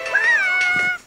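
A single clear, close cat meow in the video game Youtubers Life, rising then falling over about a second.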